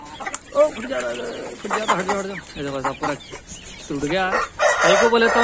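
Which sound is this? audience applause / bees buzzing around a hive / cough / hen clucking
hen clucking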